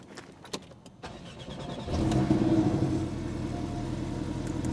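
A car starts up and runs, heard from inside the cabin: a few faint clicks, then the engine catches and settles into a steady close hum and rumble.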